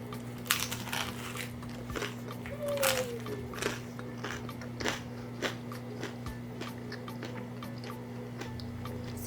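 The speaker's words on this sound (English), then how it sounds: "So I'm going to bite into this so you guys can hear how crunchy" Crisp crunching bites into a thin, crunchy lahmacun lamb pizza, a series of sharp close cracks and chewing clicks spread over several seconds against a steady background hum; no one talks.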